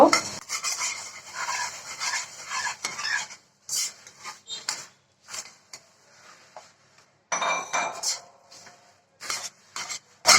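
Puffed rice being stirred into cooked jaggery in a pan with the stove off, a spoon scraping and clattering against the metal in bursts with short pauses, close and fairly loud.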